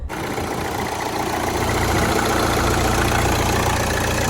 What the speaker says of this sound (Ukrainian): Дуже і дуже гарно завівся двигун.